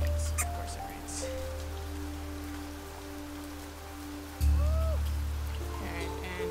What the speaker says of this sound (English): And it rains. Of course it rains.